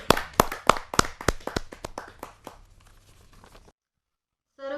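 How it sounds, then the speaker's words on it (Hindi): Audience applause welcoming a poet at a Hindi poetry gathering: a handful of people clap in a close, uneven patter that thins out and fades over about three seconds before silence, then a voice begins. "जोरदार ताली के साथ हम उनका स्वागत करें"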